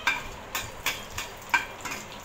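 Spices for a tadka, including cumin, bay leaves, green cardamom and dried red chillies, are stirred in hot oil for tomato chutney, with a low sizzle and regular, close scraping stirs about twice a second.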